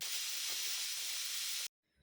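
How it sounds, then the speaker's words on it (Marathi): A pressure cooker full of lima bean rice lets off steam in a loud, steady hiss that runs continuously for well over a second, then cuts off sharply into near silence. "याला आपण आता झाकण बंद करून 2 ते 3 शिट्ट्या काढून घ्यायच्या आहेत"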